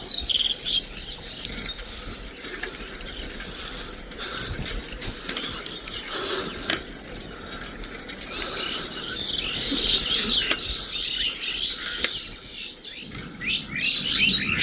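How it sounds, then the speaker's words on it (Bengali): Birds chirp and tweet steadily against a constant insect drone, with no talking, a lively outdoor chorus growing a bit busier toward the end. "এখানে এলে পাখির আওয়াজ পাবেনি"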